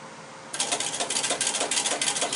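A Singer 31-15 industrial sewing machine driven by a servo motor starts up suddenly and runs in a fast, even rhythmic clatter of needle strokes, steady and close.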